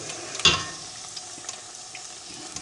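Donuts frying in hot oil in a pan, a continuous soft bubbling sizzle with one sharper spatter near the start, close and moderately quiet, no talking.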